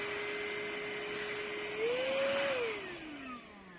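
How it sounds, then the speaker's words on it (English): Vacuum cleaner sucking debris out of a serger: a steady close motor whine that rises briefly in pitch as the nozzle is blocked, then sinks down again, with faint rattling at the end. "now I would take the vacuum and suck up anything that's in there that we knocked down in there"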